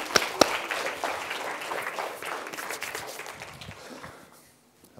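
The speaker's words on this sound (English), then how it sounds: "Let's give them a little round of applause." An audience applauds at a colour science demonstration, starting with a couple of sharp claps, then a steady crowd clapping that gradually thins and fades out near the end.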